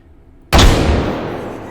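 A 3-gauge shotgun fires once in the H3VR virtual reality game, a single huge, loud blast after half a second of quiet, with a long rumbling tail that slowly fades.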